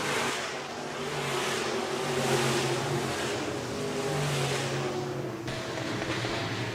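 Sprint cars and sportmods roar around the 3/8-mile dirt oval at Park Jefferson Speedway, a steady, loud multi-engine drone with overlapping revving engines throughout and no talk.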